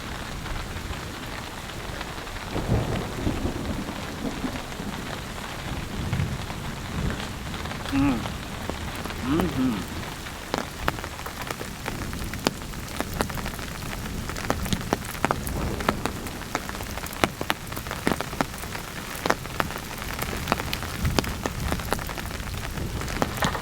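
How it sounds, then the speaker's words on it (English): Heavy rain drums steadily on a large motorcycle camping tent during an afternoon thunderstorm, a dense close patter with scattered sharper drop hits and faint low rumbles of thunder beneath. "it has been raining all afternoon"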